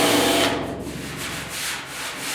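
A hand abrasive scrubs across the dented sheet-metal side panel of a 1972 Ford 4x4 short-box truck bed. The buffing rasp is loud, close and continuous, with quick back-and-forth strokes.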